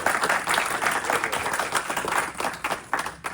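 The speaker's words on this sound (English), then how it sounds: "Let's give her another round of applause." Sustained applause from the audience at a Masonic lodge officer installation ceremony, dense steady clapping with a few sharper close claps, continuing without a break.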